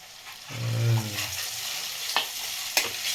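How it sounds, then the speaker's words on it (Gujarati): Capsicum and carrot frying with garlic in a pan, a steady broadband sizzle broken by a few sharp stirring scrapes and clicks of a utensil against the pan. "આમાં આપણે હવે પેપ્સિકમ મરચું ને ગાજર એડ કરી દઈશું"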